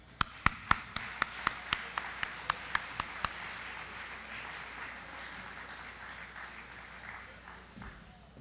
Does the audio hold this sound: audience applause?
yes